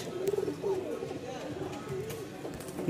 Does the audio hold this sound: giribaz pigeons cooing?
yes